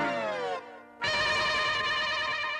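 A telephone rings with a bright, sustained electronic tone, pauses briefly, then rings again loudly and steadily in a scene from the Indian TV sitcom Taarak Mehta Ka Ooltah Chashmah.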